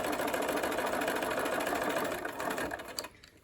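A sewing machine runs steadily, stitching a pocket on a tool roll with a fast continuous whirr before slowing and stopping near the end.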